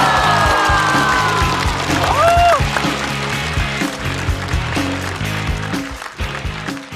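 Applause and cheering from a studio audience at a comedy roast show welcome guest Li Chengru, a loud, sustained wash of clapping with whoops and musical stings over it that gradually thins out.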